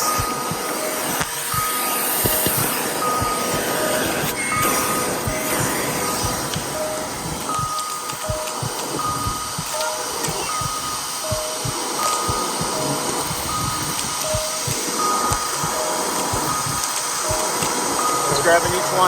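A vacuum drones steadily while sucking hornets out of their nest, a loud continuous hum that runs throughout, with faint repeated beeping and voices speaking over it.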